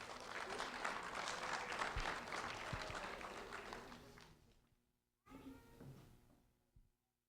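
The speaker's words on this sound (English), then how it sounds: "a round of applause for Angel Majano" Applause for first-grade student Angel Majano, a full crowd clapping steadily before fading away, followed after a brief silence by a short burst of faint clapping and a few soft knocks.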